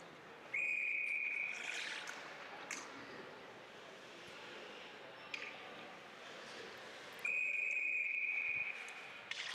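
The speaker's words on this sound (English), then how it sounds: "Before this face-off, we get the official's whistle" An ice hockey official blows a sharp whistle before a face-off at a varsity high school game. Two long, steady blasts stand out over the hollow ambient noise of the rink.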